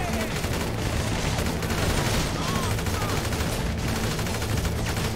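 Dense, continuous bursts of gunfire in GTA V crackle throughout, rapid shots layered over one another at a steady loud level.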